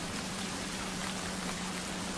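Heavy rain falls on a stormy moonless night, a dense, steady roar of downpour that fills the whole moment with no pauses or voices.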